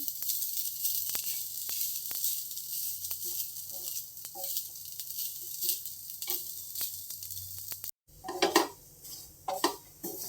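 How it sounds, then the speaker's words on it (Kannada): Grated fresh coconut frying in a pan while being stirred, quiet sizzling under scattered scrapes and clinks of a spoon against metal, with louder stirring knocks near the end. "ಫ್ರೈ ಮಾಡ್ಕೊಳ್ಳೋಣ ನೀರಿನ ಅಂಶ ಹೋಗೋವರೆಗೂ ಮೂರಿಂದ ನಾಲ್ಕು ನಿಮಿಷ ಸ್ವಲ್ಪ ಬ್ರೌನ್ ಕಲರ್ ಬರಲಿ"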